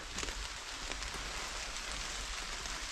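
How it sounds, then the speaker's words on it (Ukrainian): Rain falls in a forest near marshland, a dense, steady patter on leaves and ground heard close and continuous with no voices. "А дощик такий гарний пішов."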